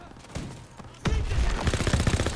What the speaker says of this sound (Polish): Strzały!